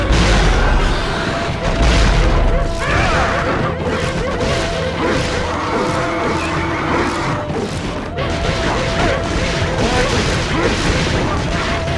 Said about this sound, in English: Those explosions will hurt you.